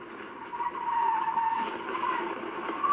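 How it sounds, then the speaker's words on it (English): A car's tyres skid and squeal as the driver stamps on the brake and locks all the wheels, a harsh tonal screech lasting a few seconds at moderate distance. "she stabs at the brake and locks up all the wheels"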